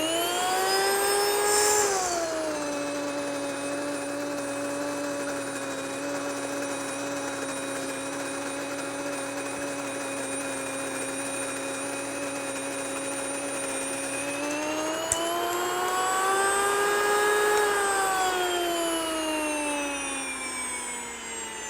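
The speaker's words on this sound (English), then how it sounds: "you want to turn your mill on before you grind your wheat. So let's go ahead and grind some grain." WonderMill electric grain mill grinds wheat with a loud, steady high-pitched motor whine and rushing roar that shifts pitch as the grain load changes, continuous throughout.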